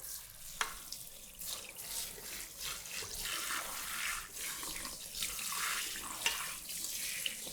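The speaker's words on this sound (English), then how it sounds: "now we're going to rinse it off and shampoo" Running water splashes steadily at a sink as hair is rinsed, a soft continuous wash with brief uneven gushes and small spatters, fairly quiet and close.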